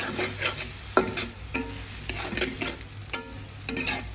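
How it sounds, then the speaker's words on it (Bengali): Prawns with chopped garlic frying in a pan with very little oil in Bengali cooking, a steady close sizzle broken by repeated sharp scrapes and knocks of a spoon stirring against the pan, with no talk. "এটাকে একটু ভেজে নেব।"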